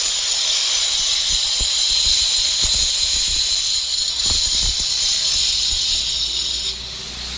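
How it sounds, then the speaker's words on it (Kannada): A metal cutting tool works steadily on steel for a building gate, a continuous bright hissing grind with scattered low knocks, loud and close, stopping abruptly near the end. "ನೋಡಿ ನಮ್ಮ ಹುಡುಗ ಕಟ್ ಮಾಡ್ತಾವನೆ."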